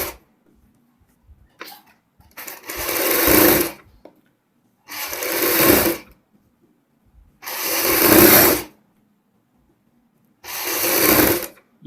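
Sewing machine stitching the folded neckline of a front boat neck blouse, running in four separate bursts of a few seconds each, with short quiet pauses between them.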